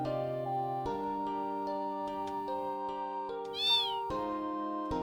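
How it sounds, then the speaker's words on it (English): Cat meowing in Final Fantasy VIII Remastered, one clear meow near the end over steady game music, no talking. "No, it's just a cat."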